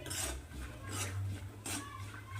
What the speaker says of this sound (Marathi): आता छान शेंगदाणे खरपूस होईपर्यंत असं मिक्स करून फिरवत राहायचं आहे भाजून घ्यायचं आहे